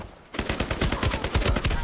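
RM277 rifle in Ironsight firing a sustained automatic burst: rapid, evenly spaced loud shots follow a brief quiet start, with no talking.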